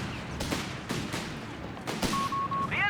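Rapid bursts of .30 cal machine gun fire crackle through a Company of Heroes 3 battle, several clustered volleys mixed with other battlefield noise and a brief electronic tone near the end.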